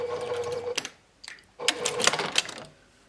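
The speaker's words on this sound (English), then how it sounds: "So I'm using a straight stitch, and I'm going to go over it 3 or 4 times just to make sure it's strong" A sewing machine runs a straight stitch back and forth over a fabric tie-back face mask, two rapid mechanical runs of stitching split by a short pause, close and fairly loud.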